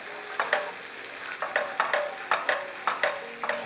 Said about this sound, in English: let that garlic fry off a little bit